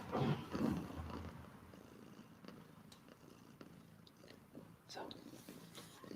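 A close, low, rumbling purr from a cat, strongest at the start and then continuing more softly with faint rustles and small clicks.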